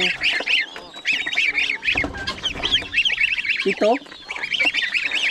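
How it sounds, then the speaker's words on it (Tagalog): Young goslings on a farm give a constant chorus of high, rapid peeping calls, close and loud, with a few lower honks and clucks mixed in. "Ito yung sisiyo ng ating gansa."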